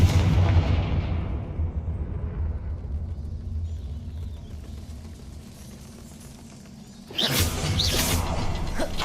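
A Confringo fire spell blasts in Hogwarts Legacy: a heavy, rumbling explosion that swells and slowly fades, then a second sharp burst erupts near the end. No one speaks.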